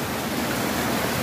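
Continuous roar of a flooded river overflowing its banks, a dense, even rushing wash of water with no pauses, close and loud throughout.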